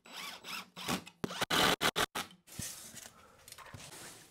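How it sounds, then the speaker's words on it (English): A screw is driven quickly into a holder for a giant LED Christmas lollipop: a cluster of sharp, close, whirring bursts lasting about a second, followed by softer rustling and handling noise. "So let's screw this in really quickly."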